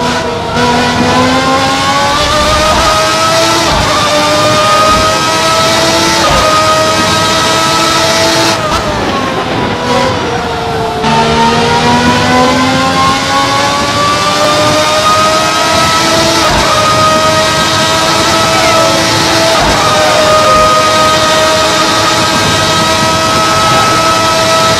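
Ferrari 641 Formula One car at Silverstone in the racing game Assetto Corsa, its high-revving engine screaming loudly and continuously, pitch rising through the gears with brief dips as it shifts and slows for corners.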